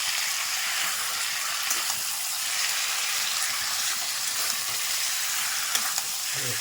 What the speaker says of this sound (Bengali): এখন এই মাংসগুলো দিয়ে দিচ্ছি দেখো মাংসগুলো আমি দিয়ে দিচ্ছি